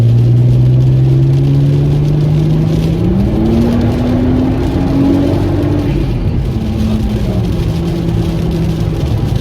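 A turbocharged MK5 VW Golf R32 accelerates hard from inside the car, its engine droning loud and rising in pitch through the gears over constant road rumble.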